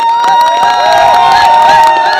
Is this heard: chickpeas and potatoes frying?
no